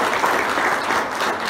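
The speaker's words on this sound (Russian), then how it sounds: "Еще раз аплодисменты." Youth business event audience applauding in a hotel venue, a continuous wash of many hands clapping at steady, fairly loud level for the whole short stretch, with no speech over it.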